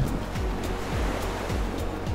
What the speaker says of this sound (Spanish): El barco está intentando empujar el hielo hacia atrás.